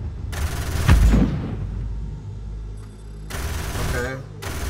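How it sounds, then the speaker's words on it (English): Missiles firing in the space combat game EVE Valkyrie, sharp bursts of launch noise with a heavy low thump, then a quieter gap and another loud rushing volley of shots. "Then release to fire your loaded missiles."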